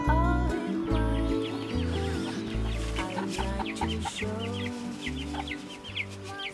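A hen clucks steadily among her naturally hatched chicks on an island farm, with the chicks' high peeping chirps scattered over the top. Close and fairly loud throughout.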